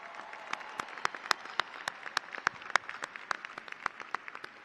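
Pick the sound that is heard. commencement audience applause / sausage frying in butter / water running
commencement audience applause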